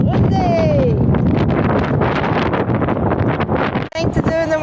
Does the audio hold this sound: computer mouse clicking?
no